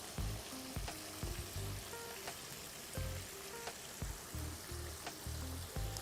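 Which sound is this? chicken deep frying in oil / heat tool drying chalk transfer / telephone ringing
chicken deep frying in oil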